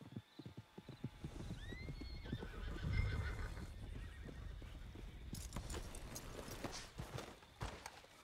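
Horse in the video game Red Dead Redemption 2 gives a loud whinnying neigh amid steady clip-clop hoofbeats, with more hoof thuds and rustling continuing throughout.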